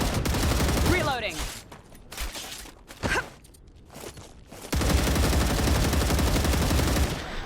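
Video game gunfire in Star Rupture: rapid automatic bursts in loud clusters separated by short gaps, then a long sustained burst to the end, close and harsh.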